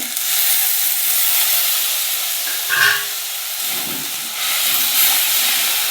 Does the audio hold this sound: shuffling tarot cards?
no